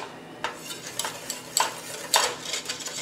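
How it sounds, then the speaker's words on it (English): Cocoa powder mixture being whisked for hot chocolate in a pot over medium heat, faint scraping strokes in an uneven rhythm, close and quiet with no voices. "Gonna whisk it together"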